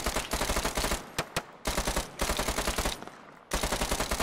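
Rapid automatic rifle fire in Arma 3, loud close bursts of rattling shots broken by short pauses, with no talking over them.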